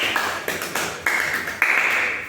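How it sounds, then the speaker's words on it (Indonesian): An audience claps out a scout clap routine (tepuk pramuka) at an Islamic talk, with sharp unison bursts of claps in a stop-start rhythmic pattern, loud and close, and no talking over them. "Tepuk pramuka."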